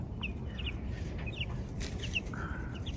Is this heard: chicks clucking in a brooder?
yes